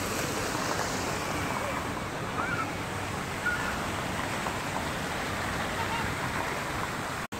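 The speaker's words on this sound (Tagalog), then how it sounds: "Ayan, may fountain fountain. May fountain dyan." Water from a fountain in a park splashes and rushes in a steady, broadband wash that holds even throughout, with a few faint voices mixed in underneath.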